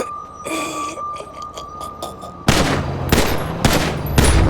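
Gunfire in the video game GTA 5: a quieter stretch with a steady tone and scattered pops, then a loud burst of rapid shots that cracks repeatedly and close.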